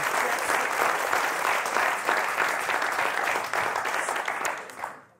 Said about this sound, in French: Allez, on vous applaudit très fort